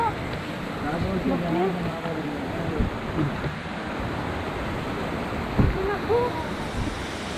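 Steady rushing water roars throughout at Kaval Waterfall in Hakkari, Turkey, a dense broadband wash like falling water nearby, with faint voices and shouts scattered underneath.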